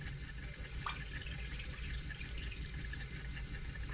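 Water flows and trickles down a clogged drain, a steady low gurgling wash with faint drips, fairly quiet and continuous, no voices.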